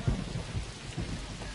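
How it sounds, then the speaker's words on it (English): A thunderstorm with rain, a steady wash of rainfall with low rumbling thunder bursts, fairly faint and without voices. "The storm was coming right at them."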